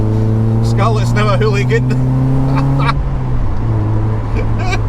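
Mazda MX-5 fitted with an aftermarket Cobalt exhaust revving in the lower gears, a loud, steady engine drone that drops in pitch near the end, with someone talking over it inside the car.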